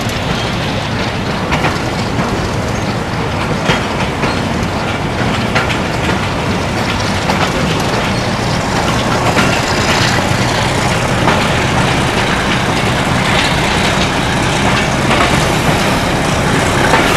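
Pakistan Railways Lasani Express running on a branch line, steady loud rumble and rattle of carriages with rhythmic wheel clatter heard from inside the train.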